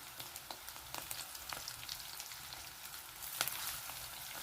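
Steady sizzling of oil in a pan with curry leaves and turmeric, scattered crackles and pops, fairly quiet and continuous, no voices.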